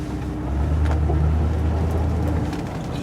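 A 1964 Cadillac convertible's engine hum swells up and settles into a steady idle, a droning rumble with some wind noise and no talking.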